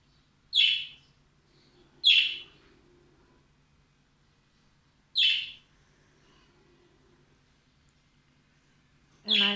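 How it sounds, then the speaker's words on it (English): Wild birds outside give sharp, high chirps: three brief calls spaced a second or more apart, then another call at the very end, against a quiet background. "There are wild birds outside."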